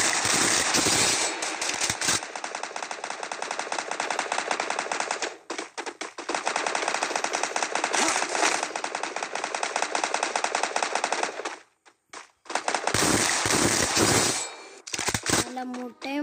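Rapid automatic gunfire in the Free Fire mobile shooter game rattles in long, dense bursts with short gaps between them, loud and close, with no talking.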